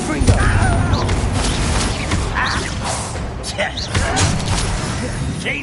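A Confringo blasting spell in Hogwarts Legacy bursts amid a dense, continuous battle din of thuds and magical impacts, with voices talking over the clamor throughout.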